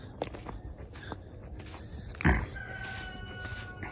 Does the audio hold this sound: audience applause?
no